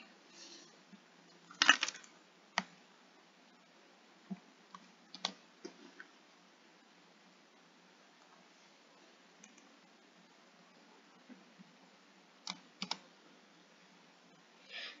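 Sparse computer mouse clicks and keyboard keystrokes during statistical data entry at a desk, quiet and close, scattered irregularly with long gaps and a few sharper clustered taps.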